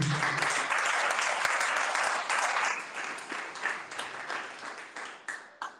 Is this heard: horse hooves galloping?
no